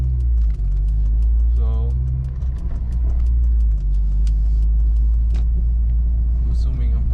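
A Honda Civic Si track-build car driving on MaXpeedingRods T7 coilovers set to full soft, with a steady low road and engine rumble throughout, some light rattles and thumps, and a brief spoken word.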